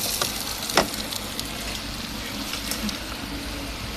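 Onion and chopped green chili go into hot oil in a rice cooker, giving a steady, fairly soft sizzling hiss with a small clatter near the start.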